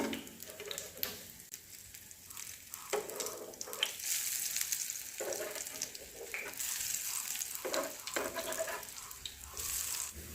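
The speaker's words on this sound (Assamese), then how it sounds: "এয়া আমাৰ ৰঙালাও ফুলৰ বৰ ভাজি ৰেডি হৈ গ'ল" Pumpkin flower fritters frying in hot oil in an Assamese home kitchen, a steady bright sizzle running throughout with brief dips and swells as the batter pieces cook.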